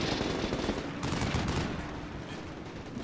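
Dense small-arms gunfire rattles almost without pause during an urban battle in the video game Combat Mission Shock Force, loud and close at first and thinning slightly toward the end.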